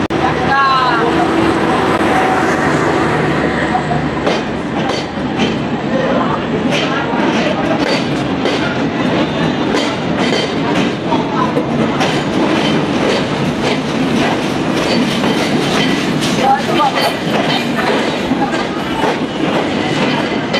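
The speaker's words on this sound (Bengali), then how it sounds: "দেখতেই পাচ্ছেন যশোর স্টেশন থেকে এখন চিত্রা এক্সপ্রেস ট্রেনটি সুপার যাচ্ছে।" The Chitra Express pulls out of Jessore station, its wheels clattering steadily and loudly over the rails for a long, continuous stretch, with rumble and clicking close by.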